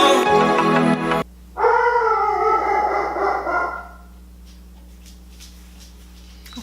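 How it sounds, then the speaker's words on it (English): A pet dog howls and yips loudly nearby for a few seconds with a drawn-out, wavering cry, then falls quiet, leaving only a low indoor hum. "That's my dog barking."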